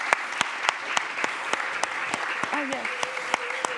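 Audience applause at a World Food Day closing plenary, steady clapping that fills the room and carries on under brief talk from a speaker.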